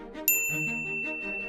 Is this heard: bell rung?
yes